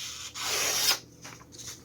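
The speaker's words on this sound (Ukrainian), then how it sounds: "Також за традицією поріжемо і папірець." Freshly sharpened Cold Steel Tanto knife blade slicing through a sheet of paper, a single close, crisp rasping swish lasting under a second, followed by a faint softer rustle.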